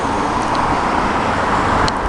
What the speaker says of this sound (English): now cars are coming